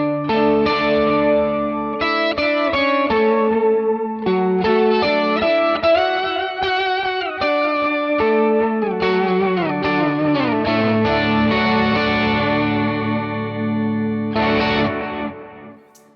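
Electric guitar through a Fractal FM9 multi-effects unit with gain, playing melodic phrases and sustained notes high on the neck, thick distorted tone with shimmering chorus, loud and close with no talking.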